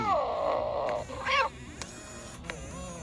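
A cat gives a thin, drawn-out meow followed by a shorter, weaker second meow, close by, with a few faint clicks and a quiet hum afterward.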